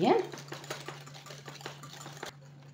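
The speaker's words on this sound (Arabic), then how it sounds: "ايوا صافي اختي نحرك مزيان" A spoon stirring an oily mixture in a bowl, with soft rhythmic scraping taps repeating steadily at close range beneath a low hum, and a brief voice at the start.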